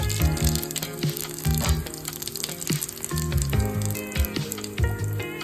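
Mustard seeds and cumin sputter in hot oil for upma, crackling and popping loudly in quick irregular bursts over a steady frying hiss, close by, with a faint tonal hum beneath.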